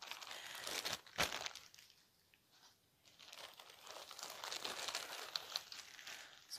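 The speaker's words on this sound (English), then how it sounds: "The plastic cut off." Plastic wrapping cut and pulled off a diamond painting canvas, close, soft crinkling and rustling with one sharp snip, faint overall and without talking.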